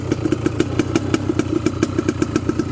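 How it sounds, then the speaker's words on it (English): A Suzuki LT250R engine idles at very low RPM with a steady, evenly spaced putter of firing pulses, close and fairly loud, with no voices. "they're supposed to idle at a really low RPM"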